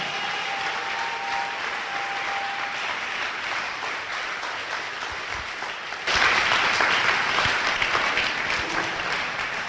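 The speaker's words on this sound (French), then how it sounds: "Put your hands together for the Lord." A church congregation applauds during a sermon, a thick continuous clatter of many hands. Partway through it swells suddenly louder and keeps going strong to the end.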